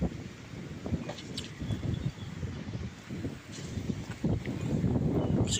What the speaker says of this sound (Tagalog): medyo malakas na ang hangin dito sa amin